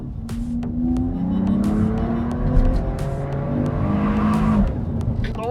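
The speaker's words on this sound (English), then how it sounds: "There is an inline 6 firing away under there, which has turbo and also an E-motor to provide you extra boost" Turbocharged inline-six engine with electric boost in a Mercedes-AMG E 53 Cabriolet revving and accelerating, a rising, gear-stepped growl that climbs, drops and climbs again, loud and up close.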